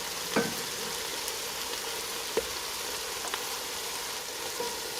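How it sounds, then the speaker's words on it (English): Chilies sauteing in hot oil for a Mexican seven-seas seafood soup, a steady soft sizzle with a few faint pops and clicks scattered throughout, moderately quiet and close. "you want to saute those for about 2 minutes"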